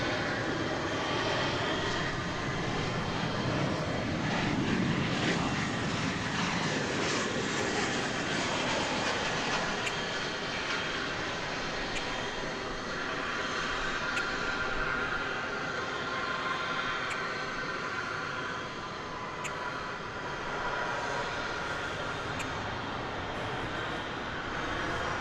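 Korean Air Boeing 787 Dreamliner jet arriving at DFW Airport, a steady broad engine roar that holds at even loudness throughout, with a faint whine on top and no talk.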